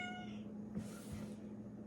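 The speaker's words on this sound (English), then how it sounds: "I just got a kitty crying after me. And it was my male kitty crying." A male house cat cries faintly indoors, a short meow or two set against a steady low hum, with no talking over it.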